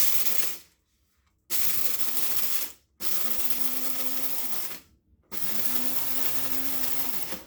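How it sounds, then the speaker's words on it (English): An electric coffee grinder grinding beans whirs loudly in three long bursts, separated by short pauses of near silence. "That's about as fine as the coffee grinder is going to get it"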